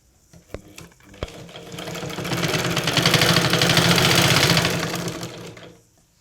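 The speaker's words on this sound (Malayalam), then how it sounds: "നമുക്കിതിൻ്റെ പുറത്ത് വെച്ചിട്ട് ഒന്ന് സ്റ്റിച്ച് ചെയ്യാം" A sewing machine stitches the neckline of a front-slit churidar top. A couple of sharp clicks come first, then a steady motor whir that swells into a loud, even run and fades out after a few seconds, with no talking.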